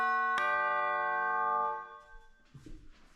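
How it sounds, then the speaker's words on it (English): Chime-style doorbell tone: a single bright struck chime rings out with a long sustained decay lasting over a second, then fades as faint background noise follows. "chimes,"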